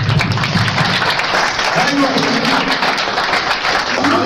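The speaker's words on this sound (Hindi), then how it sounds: "हाँ आ जाओ, आप ताली लगाओ" An audience claps at a career coaching institute event honoring selected bank PO students, giving a few seconds of continuous, fairly loud applause mixed with talk.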